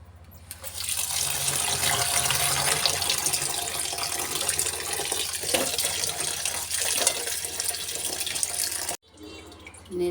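Vegetables for a vegetarian curry rinsed under a running kitchen tap, a steady loud splashing gush that lasts several seconds, breaks off briefly, then resumes.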